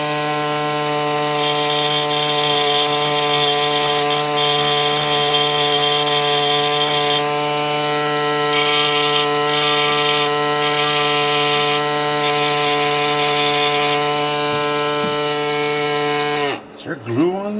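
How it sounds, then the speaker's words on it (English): A pneumatic air scribe whines steadily and loudly while cleaning a broken, previously glued fossil slab holding a needle fish, running continuously before cutting off near the end. "then take an air scribe"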